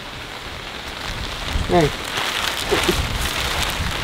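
Steady rain falls on a surface outdoors while someone does farm work cutting grass, a continuous hiss with a brief spoken exclamation over it.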